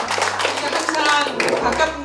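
Audience clapping for Heo Ji-ja, chairwoman, at a 2015 regular general meeting of the Bucheon women's education volunteer association; dense, steady clapping from a crowd throughout, with a low hum underneath.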